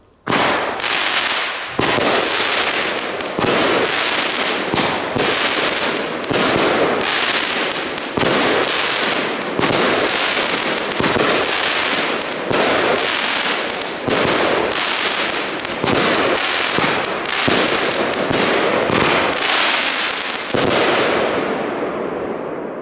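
A small fireworks cake fires 16 shots on New Year's Eve, loud cracking bursts in a quick, regular volley that runs for about twenty seconds and then dies away, with no talk over it.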